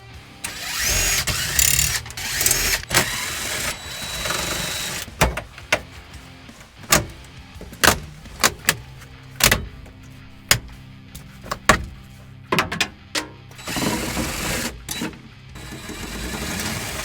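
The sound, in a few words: removing car dashboard screws with a ratchet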